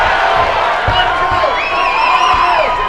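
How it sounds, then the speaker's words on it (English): A fight crowd roars and cheers in a continuous dense wash, with whoops and shouts rising above the din, loud and sustained for the whole stretch. "Boy, the crowd's liking this fight"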